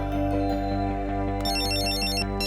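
A phone ringtone plays a repeating electronic melody with a steady beat, moderately loud and close, with no talking over it.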